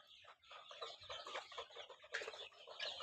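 Egyptian Fayoumi chickens, a 36-day-old farm flock, clucking continuously, many overlapping bright clucks and chatter, fairly faint and distant-sounding.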